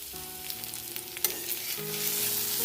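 Pumpkin sizzles steadily as it fries in a hot pan, with a brief clatter partway through as it is stirred. The sound is close and continuous.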